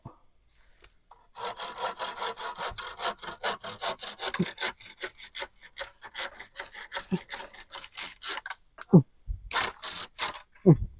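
Rhythmic hand saw strokes rasping through wood while building a roofed pavilion, steady back-and-forth cutting up close, with a few brief pauses and some voices near the end.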